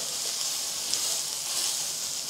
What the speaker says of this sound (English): It's kind of like searing the mushrooms before all the juice is released